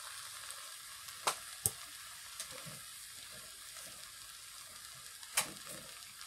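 Sesbania flowers stir-frying in a hot pan, a steady broad sizzle with a few sharp clinks and scrapes of the spatula scattered through, close and alone without any talk.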